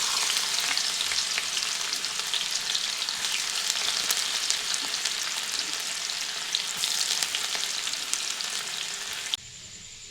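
Chopped ginger and garlic frying in hot white oil in a kadai, a dense, steady, close crackling sizzle that holds evenly for about nine seconds before dropping abruptly to a quieter hiss.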